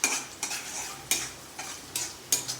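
Onions frying in a pan for a mixed vegetable curry, a soft sizzle punctuated by about five sharp utensil scrapes at a steady stirring pace, close and without talk.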